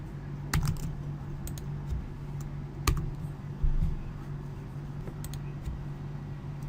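Typing on a computer keyboard while entering Framework7 commands at a command prompt, with scattered key clicks and a few sharper strokes over a steady low background hum.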